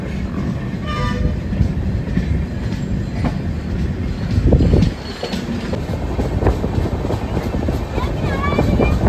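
The Prasanthi Express rumbles steadily along the rails near Annavaram junction, heard from a first-AC coupe, wheels clattering with a brief louder surge midway, a faint squeal and occasional voices in the background.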